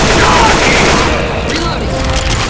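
A grenade blast booms in Left 4 Dead 2 survival play, a loud, dense burst blended with continuous gunfire, while character voices call out over the din.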